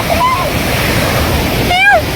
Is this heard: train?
no